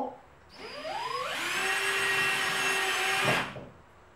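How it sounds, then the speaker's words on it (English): A power drill with a 1/8 inch bit spins up and bores a hole through sheetrock, its motor whine rising to a steady high pitch for a few seconds before winding down, close and loud. "I've installed an 1/8 inch bit in my drill"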